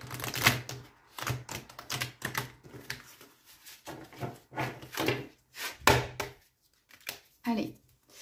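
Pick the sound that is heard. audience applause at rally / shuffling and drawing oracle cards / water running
shuffling and drawing oracle cards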